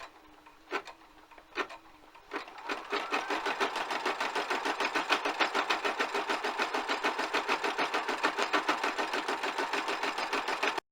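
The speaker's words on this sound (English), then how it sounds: "I'm now going to clip my frame into the embroidery machine" A couple of sharp clicks, then an embroidery machine starts up and stitches steadily in a fast, even mechanical rhythm, close and continuous.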